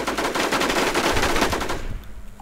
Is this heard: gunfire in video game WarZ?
yes